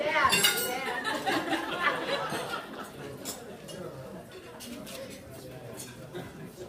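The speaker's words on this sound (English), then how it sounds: "Please raise your glasses as a toast to the bride and the groom." Glasses clink at a wedding reception toast to the bride and groom: a few bright chimes early on, then scattered lighter clinks under steady guest chatter and murmuring.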